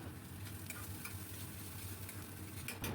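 Rohu fish curry masala is stirred with salt in a pan, giving a soft, steady sizzle with faint scraping strokes, quiet and close, with no talk.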